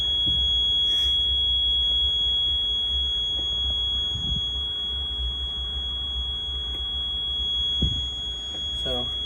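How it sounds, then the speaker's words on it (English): A steady high-pitched low air pressure alarm tone sounds continuously over the low idle rumble of a 2008 Coachmen Sportscoach Pathfinder motorhome engine just after startup, with a few faint clicks and knocks. "We will have the alarms once I start it, until the air pressure builds up."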